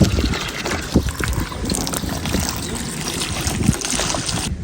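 Water pours steadily into buckets while a horse is being treated, a continuous loud splashing and trickling close by, with a few sharper splashes.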